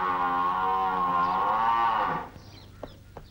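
A buffalo gives a long, loud, steady moo lasting about two seconds before it cuts off, leaving a quiet background with a couple of faint knocks, in a 1979 Hindi feature film.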